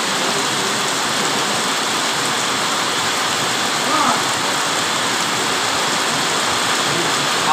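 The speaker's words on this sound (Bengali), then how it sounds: "সবাই দেখতে পাইছেন মালয়েশিয়ায় বিশাল বৃষ্টি হয়েছে।" Heavy rain pours down in Malaysia, a dense, steady hiss of rainfall on surfaces that stays loud and unbroken from start to finish.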